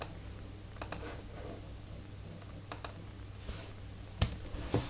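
Keys tapping on a computer keyboard as a username and password are entered, sparse faint clicks over a steady low hum, with one sharper louder keystroke near the end.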